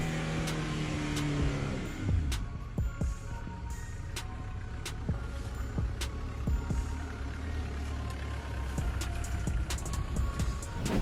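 A car being driven, its engine running steadily with occasional revs and mechanical knocks, moderately loud and continuous with no talk.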